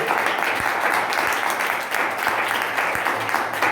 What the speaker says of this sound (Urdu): زوردار تالیاں زندہ یسوع کے لیے۔